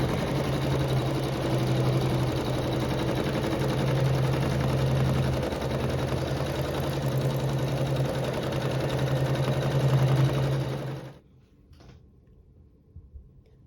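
A sewing machine runs steadily, stitching through wool batting with the presser foot down, a loud continuous mechanical hum for about eleven seconds before cutting off, followed by a few faint handling clicks.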